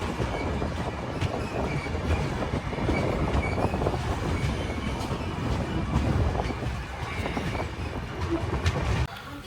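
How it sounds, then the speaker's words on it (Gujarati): The Yoga Express pulls out of Unjha station from platform 2 with a continuous close rumble and rhythmic clickety-clack of wheels on rails, holding steady before easing off at the end. "બસ 2 મિનિટના હોલ્ટ બાદ ઊંઝાથી આપણી ટ્રેન રવાના થઈ ચૂકી છે"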